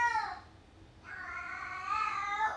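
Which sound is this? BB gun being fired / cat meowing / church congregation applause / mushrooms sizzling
cat meowing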